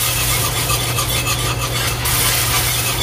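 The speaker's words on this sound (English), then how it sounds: "Okay, slowly add our broth. And you'll want to whisk as you're doing it." Wire whisk scraping steadily as broth is stirred into a flour roux for copycat KFC gravy, a continuous close rasping and rubbing over a low steady hum.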